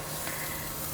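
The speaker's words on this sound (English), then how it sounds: "Now I'll add my onions." Onions sizzle in hot oil, giving a steady, close crackling hiss with a brief stir near the end.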